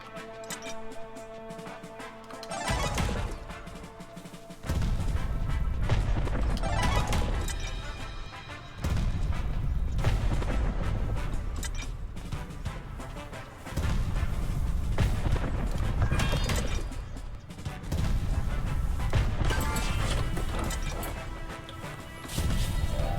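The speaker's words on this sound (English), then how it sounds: "Great, another mortar, and it's covering our exit." Mortar rounds land in a battle zone in the WrestleQuest video game: heavy, booming crashes strike roughly every four to five seconds, each loud blast rolling off into a rumbling tail before the next impact.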